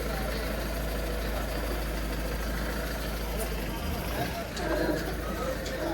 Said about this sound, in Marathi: पाहू शकता आता गाडी निघते